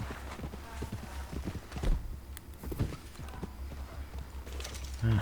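Horse hooves clip-clop at a walking pace in Red Dead Redemption 2, soft and somewhat distant, with occasional voices and background noise.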